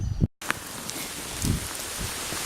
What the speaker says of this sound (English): it's not every day you get to hike in the rain.